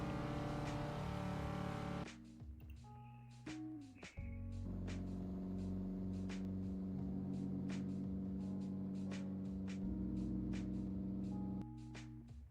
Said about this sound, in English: Ooh, muscle car engine.